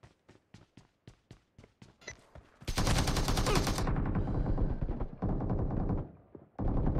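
Gunfire in the mobile battle-royale game PUBG Mobile: a rapid string of single shots, then a loud sustained burst of automatic fire that pauses briefly and resumes, close and dominant with no talk.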